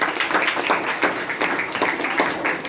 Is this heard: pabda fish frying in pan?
no